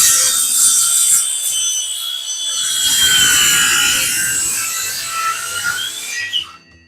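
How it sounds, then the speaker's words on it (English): A Makita power saw rasps through wood in one sustained cut, loud and close, its whine drifting in pitch before stopping abruptly at the end, no talking. "let me grab my Makita here and let's go"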